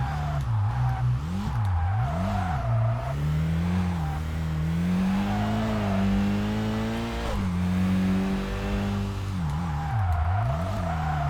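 A turbocharged car engine in the racing video game Kaido Racer 2 revs up and down through repeated gear changes, rising and falling pitch sweeps, loud and continuous with no talking.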